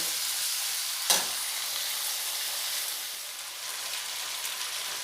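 Vegetables frying with salt in a pan give off a steady, close sizzle, with a brief stirring clatter near the start and a continuous hiss throughout.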